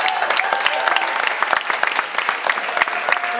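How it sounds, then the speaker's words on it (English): A crowd at a magic show applauds volunteers walking up to the stage, with steady, dense clapping throughout. "everyone will give them a huge round of peer group applause"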